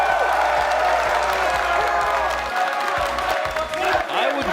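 A large arena crowd at the Rocket League World Championship group stage applauds and cheers in a dense, sustained roar, while a voice carries faintly over the noise.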